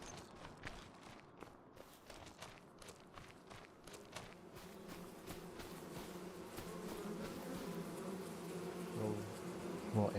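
Bees drone around beehives on an Iowa farm in Farming Simulator 25, a steady close buzzing with soft footsteps crunching along underneath as the player walks near the hives.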